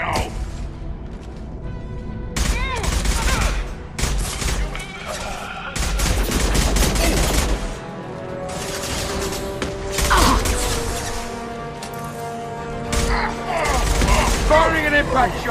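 Heavy gunfire in a Mass Effect 2 firefight, with dense bursts of weapon fire and booming impacts that run almost without a break, loud and close, under shouted voices.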